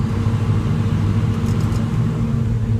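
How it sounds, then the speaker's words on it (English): A Caterpillar 325C excavator engine drones steadily at close range with a deep, constant rumble as it revs up, its pitch holding fairly even throughout. "You can hear the engine go up."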